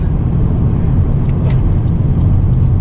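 A BMW 760Li E66 with an Alpina-styled body and V12 engine roars steadily under hard acceleration, a loud, dense low rumble with road noise throughout.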